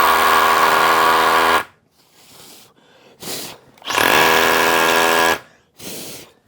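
A drill bores a hole into concrete for a drop-in anchor, two loud sustained grinding bursts of about one and a half seconds each, separated by short quieter pauses and a brief revving blip.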